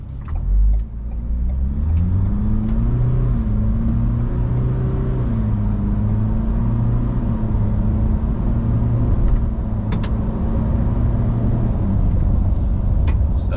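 A 2023 Ford Ranger Wildtrak bi-turbo pickup accelerating from inside the cabin: a steady low engine drone whose pitch climbs and shifts through gear changes, continuous and fairly loud with faint road noise.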